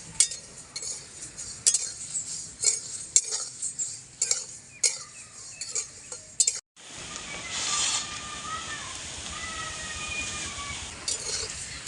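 Spices for mango masala oil stirred in a pan, with a spatula clinking and scraping in irregular strikes before a steady, soft frying hiss takes over for the second half.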